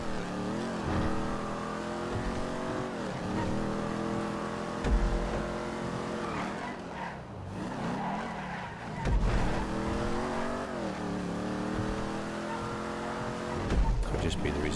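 Cars racing in GTA Online, with engines revving up and down in repeated rising sweeps and occasional tire squeal, steady and close throughout, while a voice talks over the action.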